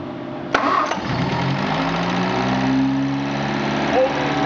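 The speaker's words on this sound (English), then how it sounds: "We'll start our car up." A classic MG car engine cranks with a sharp click and catches within a second, then settles into a steady, close idle that runs on evenly for several seconds.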